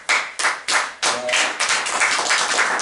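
A church congregation applauds: several sharp hand claps in a loose rhythm at first, merging into continuous clapping from many hands, close and fairly loud.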